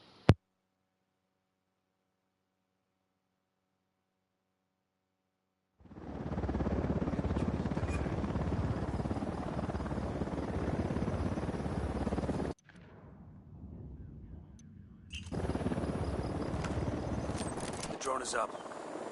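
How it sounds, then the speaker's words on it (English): A surveillance drone in Ghost Recon Wildlands hums steadily and loudly for about thirteen seconds after near silence, briefly drops away, then returns with the same dense whirring drone. "The drone is up."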